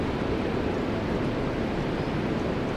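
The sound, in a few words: ocean waves rolling onto the seashore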